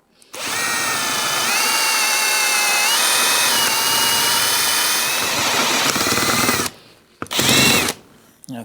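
A power drill grinds the head off a rivet on a Yamaha Blaster 200 part, a loud, steady high whine for about six seconds that cuts out, then one short burst follows.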